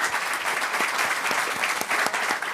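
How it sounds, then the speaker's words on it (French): Audience applause at a French public talk with Nobel laureate Pierre Agostini: dense, steady clapping from a large crowd, sustained and fairly loud throughout with no talk over it. "Déjà, on peut vous applaudir. Bravo et merci."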